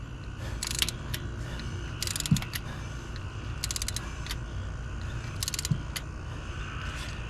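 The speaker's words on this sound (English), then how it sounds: "come right behind it with the injector and torque it down." Ratchet wrench torquing down a diesel injector on a 2000 Ford F-250, heard as several short bursts of quick clicking spread across the stretch, close and fairly loud over a steady low hum.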